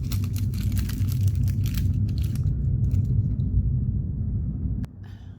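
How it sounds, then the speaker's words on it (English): An airplane flying overhead produces a loud, steady low rumble that persists for about five seconds, then drops off abruptly near the end, leaving only faint light clicks. "sorry about that noise, it's a airplane."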